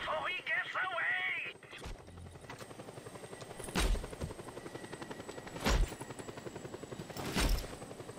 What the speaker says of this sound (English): He is trying to escape in a helicopter!